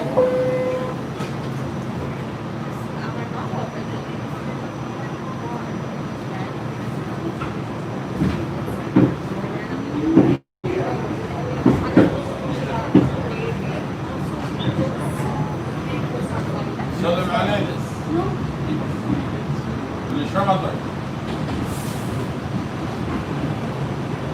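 A New York City subway train in Brooklyn rumbles steadily along the tracks. Clanks and squeals rise now and then, with one brief dropout midway and a few sharper knocks, and the noise carries on unbroken throughout.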